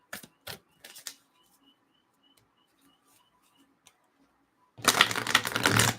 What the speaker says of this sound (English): And the cards all shuffled.